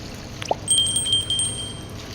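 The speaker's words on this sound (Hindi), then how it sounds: "अब हम इसके अंदर पानी ऐड करेंगे।" Water pours steadily into a cooking pot of spiced mutton karahi for about a second, with a faint clink just before it, close by and without talk.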